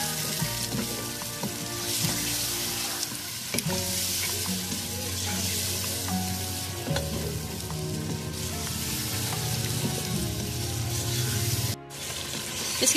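Chicken pieces with spices fry in a pan for white karahi, a loud, steady sizzle with intermittent stirring scrapes and clatter throughout, no talking.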